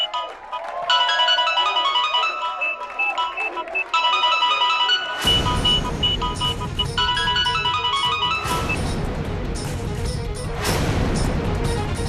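A phone ringing in the Hindi TV serial Sasural Simar Ka: a bright, melodic ringtone plays loudly in repeated phrases, then heavy dramatic crashing hits and a swelling music score take over.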